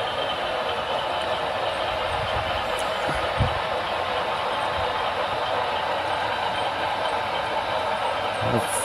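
A steady mechanical whir and rumble runs continuously, with faint clicks and a soft thump or two, as a model train circles a track.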